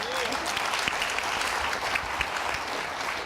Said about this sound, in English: I think an Oscar deserves a round of applause, does it not?